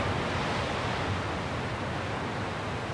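Ocean surf pounds a tiny sandy bay below cave-carved cliffs on the rugged Oregon coast, a continuous broadband roar of breaking waves filling the air without pause.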